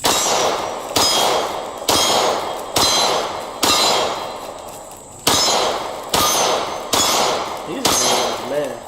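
Gunshots ringing a swinging steel target, nine sharp metallic clangs at about one-second intervals, each leaving a short ringing decay, loud and close.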